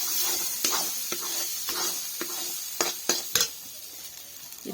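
Cauliflower paste with cumin seeds frying in oil is stirred in a pan, a soft sizzle under a series of spatula scrapes and knocks, close up with no talk.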